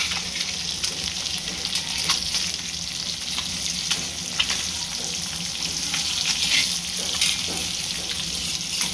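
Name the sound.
fish pieces frying in a pan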